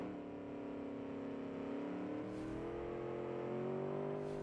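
Race car with an NSX body in the BeamNG driving game, its engine droning steadily and close with a rising pitch as it accelerates down a straight, alone without voices.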